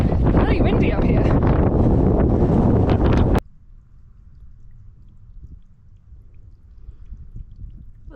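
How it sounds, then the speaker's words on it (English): Loud, buffeting wind roars across the microphone on an exposed mountain trail for a few seconds, then cuts off abruptly to a quiet low rumble. "It's really windy up here."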